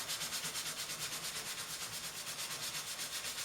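Brushing a wooden statuette base by hand, a soft rhythmic back-and-forth scrubbing with steady strokes, close and quiet.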